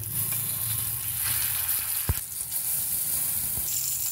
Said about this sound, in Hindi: अब हम कबाब फ्राई कर लेंगे।